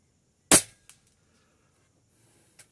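A single sharp PCP air rifle shot (M60, 25-grain slugs) cracks close by, followed by a faint click and a small distant impact at 60 metres a couple of seconds later.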